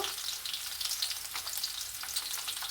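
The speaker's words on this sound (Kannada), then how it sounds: "ಬೆಳ್ಳುಳ್ಳಿ ಎಲ್ಲ ಗಮ್ಮನವರೆಗೂ, ಅಂದರೆ ಫ್ರೈ ಆಗೋವರೆಗೂ ಸ್ವಲ್ಪ ಬಾಡಿಸ್ಕೋಬೇಕು" Garlic frying gently in oil over a low flame, a steady soft sizzle with small crackles and pops, close and continuous with no voices.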